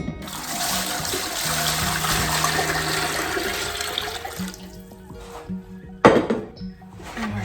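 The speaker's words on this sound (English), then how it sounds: "we're just adding water." Water pours steadily into a pressure canner for beef stew, a continuous broadband rush and trickle that runs for several seconds, then drops off with a brief clank of metal near the end.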